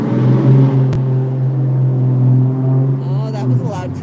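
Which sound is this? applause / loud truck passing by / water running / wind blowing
loud truck passing by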